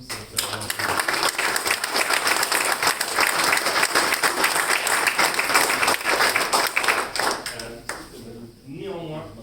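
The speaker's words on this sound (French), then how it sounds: "si on peut tous s'applaudir ce soir un petit coup" Members of a holiday centre team clap for themselves at a European Ecolabel award ceremony, a dense, steady round of applause that fades near the end as voices start talking.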